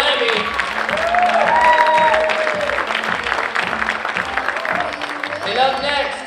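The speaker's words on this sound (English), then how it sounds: "Would you give a round of applause to Victoria Hoffman as Sammy Lammy?" An audience bursts into sustained applause after a stage performance, dense clapping rising then fading, mixed with cheering, a few shouts and some voices talking over it.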